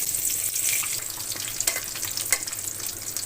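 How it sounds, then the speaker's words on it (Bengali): Cardamom, cinnamon, bay leaf and garam masala sizzle in hot oil in a kadai, a steady bright crackle with a few stirring scrapes and no talking. "তেলের মধ্যে দিয়ে দেবো এলাচ, দারচিনি, তেজপাতা, গরম মশলা।"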